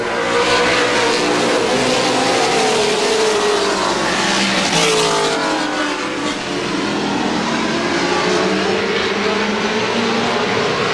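Stock cars roar around the oval at Lorain County Speedway in 1987, a dense, continuous wall of loud engine noise with pitch sweeps as cars pass close by throughout.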